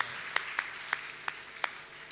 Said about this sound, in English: Please let's give the Lord a massive round of applause.